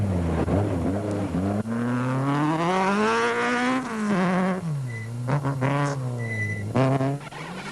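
A Sassel dual-fuel Volkswagen Golf rally car on a gravel special stage at the Mountain Trail Rally, its engine loud and close, rising and falling through revs and gear changes, with a couple of brief sharp tones near the end.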